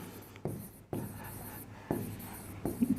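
Pen writing a note during a thermodynamics lecture, a few close scratchy strokes in short bursts separated by brief pauses, no talking.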